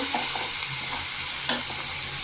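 Curry frying in a pan with cumin powder and garam masala powder, a continuous close sizzle broken by a few quick scraping stirs of the spoon.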